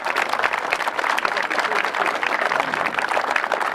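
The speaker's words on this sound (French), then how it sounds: "Applaudis bien fort, hein." Audience applause at a pirate festival, a dense, steady wash of many hands clapping for a costumed contestant, continuous and fairly loud from start to finish.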